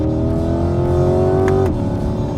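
Chevrolet Corvette C8 engine revving out in third gear, a loud, close, rising engine note that holds high, then drops sharply at the upshift or lift-off.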